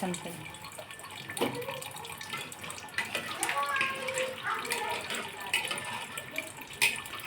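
Water splashes and trickles into a container, with clinks and a voice talking softly nearby.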